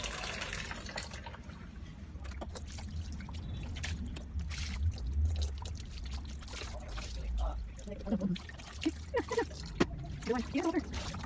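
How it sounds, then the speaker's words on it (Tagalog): Clothes soaked and rinsed by hand in a tub of water for a soap rinse, with soft sloshing and splashing that comes and goes and grows more active midway, heard under background noise with no clear voice. "Now I will soak my clothes in water to get the soap off of my clothes"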